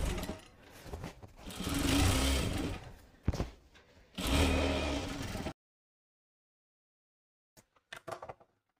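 A sewing machine stitches canvas onto lehenga fabric for a box-pleated lehenga in two loud, close bursts of rapid whirring, separated by a short stop. After that comes silence and then a few faint taps.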